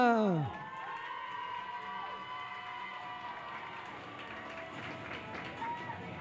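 An audience applauds and cheers at an equestrian prize ceremony, a busy crowd noise that stays fairly even throughout, with a voice speaking over it.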